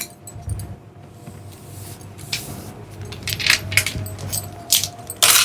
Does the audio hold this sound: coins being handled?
yes